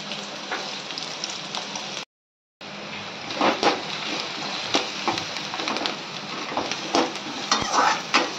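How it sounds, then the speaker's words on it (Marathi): Onion frying in hot oil in a pan, a steady dense sizzle with spatters and scraping stirs throughout, briefly cut to silence once before resuming, close and moderately loud with no talk. "तेल तापल्याच्या नंतर आपण त्याच्यामध्ये कांदा टाकून घेऊया"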